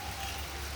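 Heavy rain pours steadily during a cold, dark afternoon at a hillside temple in Karnataka, a continuous dense patter with low rumble and no talk.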